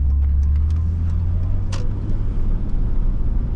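A 2000 Chevrolet Blazer LS SUV cruising along, its low engine drone and road rumble steady and close from inside the cabin, with a few faint clicks and rattles over the top and no talking.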